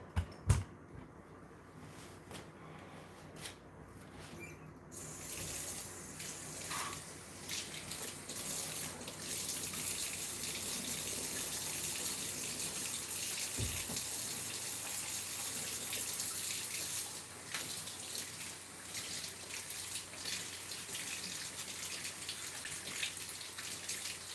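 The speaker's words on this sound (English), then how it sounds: "I'm gonna wash my hands now." Water runs steadily from a sink tap as hands are washed beneath it, a soft continuous splashing rush with a brief gap near the start and no talk.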